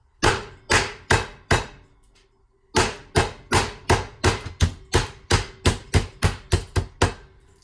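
Steady rhythmic thumps of a meat mallet pounding wild hog meat on a board, a few strikes, a short pause, then a long even run of blows.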